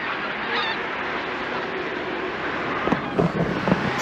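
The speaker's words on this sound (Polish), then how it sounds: "i klucz jakichś ptaków akurat nad nami leci," Geese flying overhead near a lake, a few faint honks breaking through steady wind and outdoor hiss near the end, distant and brief.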